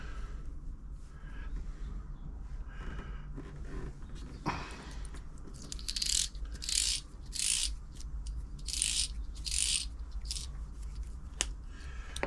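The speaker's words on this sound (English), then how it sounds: "First job we put of just wind the bobbin, bit of new thread." Elna Supermatic sewing machine winding a bobbin with new thread during a service, giving a steady mechanical whir with repeated rhythmic ratcheting bursts, close and clear with no talk.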